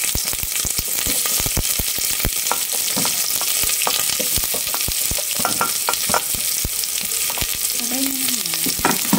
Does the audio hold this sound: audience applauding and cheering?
no